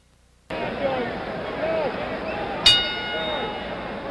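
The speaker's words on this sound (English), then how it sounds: "The bell for round two." Ringside bell marking the start of round two at a 1977 heavyweight boxing match between George Foreman and Jimmy Young: a single sharp clang with a ringing tail, rising out of steady arena crowd noise.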